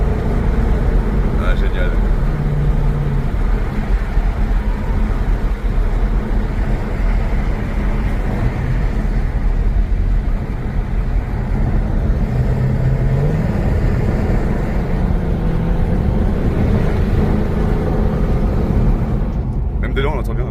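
Inside a moving Ford Mustang with a 5.0-litre V8, a deep, steady engine rumble builds as the car accelerates out of a junction, while people talk briefly over the drone.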